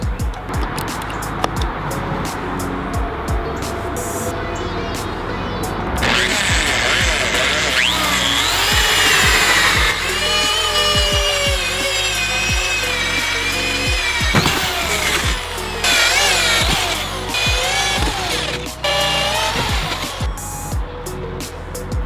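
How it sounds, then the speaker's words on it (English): An electric 10 amp drill whines through repeated bursts, its pitch shifting as it bites into material, with clicks and handling noise in between. "I'm going to try to drill some holes with my 10 amp drill"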